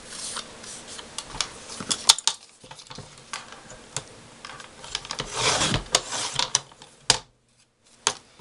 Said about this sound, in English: what we want to do is cut it straight